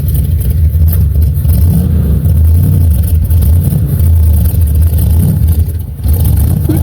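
A 1969 Chevy C10 pickup, parked for over 20 years and fed from a plastic fuel jug, revs with a loud, steady low engine roar that swells and dips slightly throughout.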